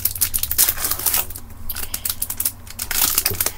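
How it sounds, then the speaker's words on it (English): A Pokémon Breakthrough booster pack being torn open by hand: close, crisp crinkling and ripping of foil wrapper in irregular bursts, with brief pauses between pulls. "now we're going to be opening up the last packet for today"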